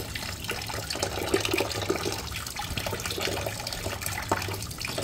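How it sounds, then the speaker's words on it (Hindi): Tap water runs steadily from a kitchen faucet while small tarli fish are rinsed one by one under it, a continuous close splashing gush with light clinks and shifting spatter as hands work in the stream. "एक एक ताड़ली हम नलके के नीचे धोएंगे बिल्कुल अच्छे से।"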